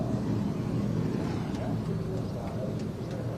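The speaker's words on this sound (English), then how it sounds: "Those engines have come to life, and we are getting ready to go now." Trans Am Series race car engines starting up at Portland International Raceway, a dense continuous roar of several engines idling together at moderate distance, steady throughout.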